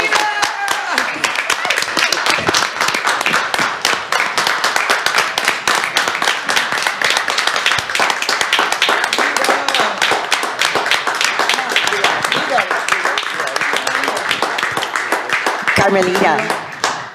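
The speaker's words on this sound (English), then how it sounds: "Do we vote first before we clap?" An audience at a Syracuse Common Council meeting claps in a dense, steady patter for about seventeen seconds, with a voice speaking over the applause.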